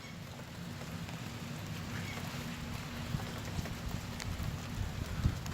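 Rain falls outdoors near the sea in Haugesund, Norway, a steady soft hiss of drops with occasional louder patters close by.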